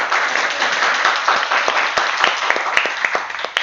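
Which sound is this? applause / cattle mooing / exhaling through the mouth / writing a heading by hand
applause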